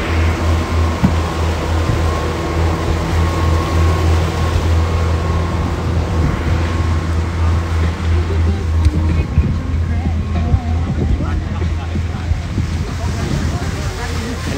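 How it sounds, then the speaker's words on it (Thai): Sailboat out on the open sea, with steady wind rushing across the microphone, waves washing past the hull and a low motor-like hum underneath, continuous and fairly loud throughout. "อันนี้เป็นเรือใบครับ"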